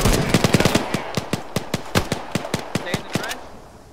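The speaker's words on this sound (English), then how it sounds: "There's someone outside of the trench trying to shoot at me." Rapid bursts of automatic gunfire crack out in a steady rhythm through a video game trench battle, a dozen sharp close shots spaced evenly over a rumbling backdrop.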